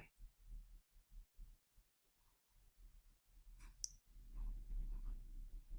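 A computer mouse gives a run of soft, evenly spaced clicks, faint and close, with a slightly louder rustling stretch near the end.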